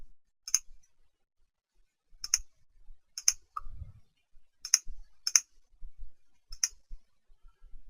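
A computer mouse clicks through an online questionnaire, giving about seven crisp, isolated clicks spaced a second or so apart in a quiet room, close to the microphone.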